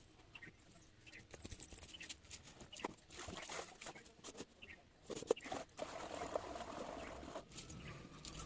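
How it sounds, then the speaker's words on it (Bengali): Clothes being washed by hand in water, with quiet, irregular splashes, sloshing and wet slapping and scrubbing sounds that come in uneven bursts up close. "জামা কাপড়গুলো ধুয়ে নিচ্ছি।"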